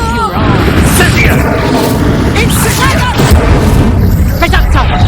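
Incendio fire spell being cast in Hogwarts Legacy, a loud booming burst amid a dense din of combat effects, with voices shouting in a busy magical duel.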